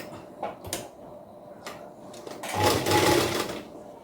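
A sewing machine stitches down a folded blouse hem. A few handling clicks and knocks come first, then a short, moderately loud burst of machine stitching.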